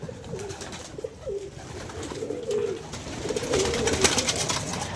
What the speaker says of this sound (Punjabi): ਯਾਰ ਵੈਸੇ ਬਾਸੀ ਤੇਰਾ ਕਬੂਤਰਾਂ ਨੂੰ ਫੜਨਾ ਬੜਾ ਬੇਦਰਦੀ ਦਾ ਲੱਗਾ